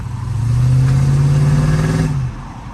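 A junkyard LS V8 mounted in a truck revs hard and holds a deep, loud roar for about two seconds before dropping back to idle.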